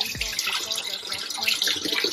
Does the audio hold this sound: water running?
yes